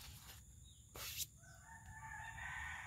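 A hen crows clearly, followed by a drawn-out call over quiet outdoor background.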